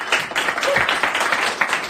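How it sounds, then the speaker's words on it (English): Studio audience applause at a John Mayer show with Finneas, a brisk burst of many hands clapping that stays lively and close for a couple of seconds. "But a little applause never hurts."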